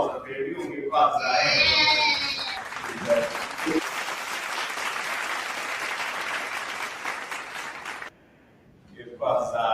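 Applause from a class audience in a room, a dense burst of clapping lasting most of the span with a few voices mixed in, then breaking off into near silence before talk returns.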